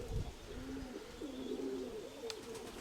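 Soft, low cooing of a female pigeon repeats in a few rolling phrases, close by, with light background rustle and a brief sharp tick near the end.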